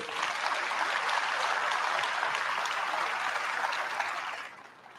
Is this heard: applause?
yes